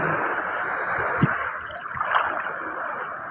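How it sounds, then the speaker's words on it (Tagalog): Rough sea waves wash and slosh in a continuous broad rush, with a low thump and a swell in the surge partway through, near and fairly loud with no clear talk. "nalaki ng alon"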